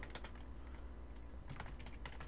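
Someone types on a computer keyboard while playing Garry's Mod, producing quick clusters of soft key clicks in two short bursts separated by a pause, faint under a steady background hum.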